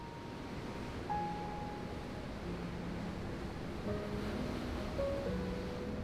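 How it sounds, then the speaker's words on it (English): Ocean waves crash and wash over a rocky shoreline as a steady, distant roar of surf with some wind noise, sustained throughout and with no voices. "this more rocky area where the waves were crashing"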